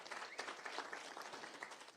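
Members at a Kenya Kwanza parliamentary group meeting in Naivasha clap in a faint, distant round of applause, a busy patter of many hands with no voices over it.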